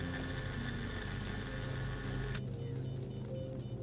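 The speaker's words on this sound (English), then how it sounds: "Hey, why is it beeping? Why are you beeping at me?" Repeated electronic beeping from a video game scanner, steady and fairly loud, with a constant tonal pulse that shifts partway through as the game's background sound drops away.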